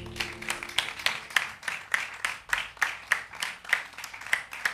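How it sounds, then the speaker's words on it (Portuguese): An audience claps at an open-air stage show in Largo do Pelourinho, with sharp claps falling into an even rhythmic beat throughout, close and fairly loud. "uma grande salva de palmas"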